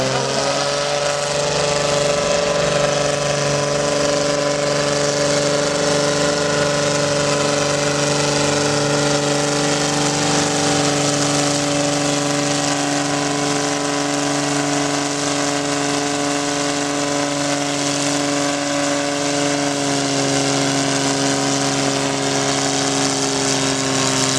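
Tractor engine running at a threshing show tractor pull, a loud continuous droning roar with steady harmonic tones and little change in pitch, heard at moderate distance with no talking.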